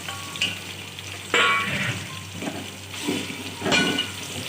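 Chicken pieces fry in a hot pan for Chinese-style chicken fried rice, a steady close sizzle with loud bursts of spattering and occasional metallic clangs of a utensil stirring against the pan.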